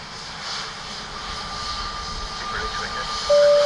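A jet airliner landing on runway 28 left at Dublin Airport gives a steady, loud engine roar with a thin whine that grows stronger toward the end.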